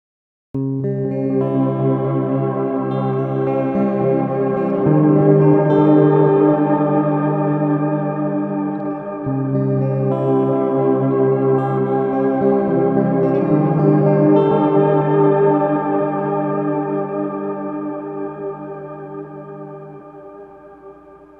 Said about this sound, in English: Program 2 is a reverse delay into an octave up reverb